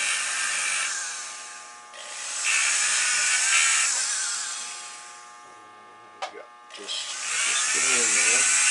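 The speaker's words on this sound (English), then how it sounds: "Finish the cleanup here with the drum sander." Drum sander cleaning up a curly ring, a high, hissing whine that runs in long sustained passes, drops off, then starts again, with a voice speaking briefly in a pause.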